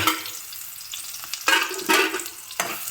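Raw banana pieces hit a pan of hot oil with frying mustard seeds, urad dal and curry leaves, giving a close, loud sizzle with sharp bursts as the pieces drop in and are stirred.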